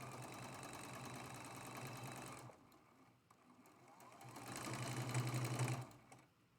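Sewing machine chain piecing quilt blocks, humming steadily at close range in two long runs separated by a brief pause.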